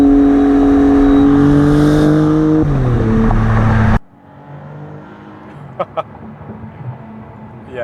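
2022 Maserati MC20 supercar on a highway, its engine droning loud and steady with a tone step partway through, then cutting abruptly to a quiet cabin hum with a few short knocks.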